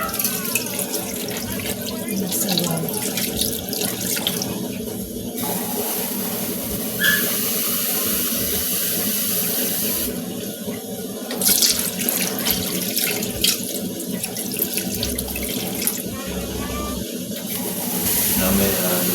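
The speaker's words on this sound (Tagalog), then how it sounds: "Nalagyan din pala natin ng tubig." Water poured into a cooking pot while preparing sinaing na isda, a continuous splashing gush that changes pitch as it fills, with a person talking over it.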